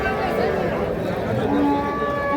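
Cows at Kaharol cattle market low and moo amid constant crowd murmur, with livestock noise filling a busy outdoor haat; the cattle include Sahiwal and Sindhi breed cows with calves.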